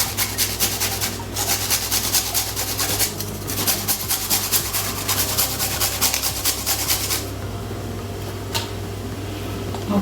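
A clove of garlic rubbed against a kitchen grater in steady, rapid rasping strokes, close and fairly loud, for about seven seconds before stopping into quieter room tone.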